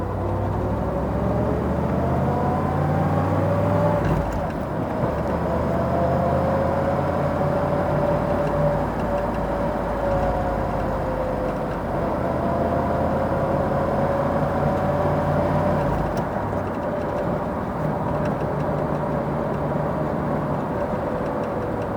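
A 1971 Corvette Stingray engine drones steadily as it accelerates, pitch rising and falling through gear changes, loud and continuous with no talking.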